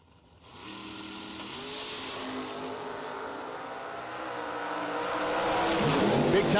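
Door slammer drag cars at a racetrack launching, among them a McCarty Auto Parts sponsored Camaro, a loud sustained engine roar that builds and swells toward the end, with a voice talking over it.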